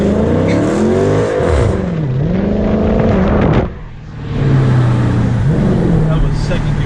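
A car accelerating hard from a second gear start, loud engine pitch climbing through revs, a brief dip at a shift, then pulling again, heard from inside with voices talking over it.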